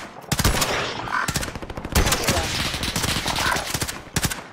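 Dense video-game gunfire rattles nonstop, with rapid automatic bursts and single cracks stacking close and loud, and brief voices underneath.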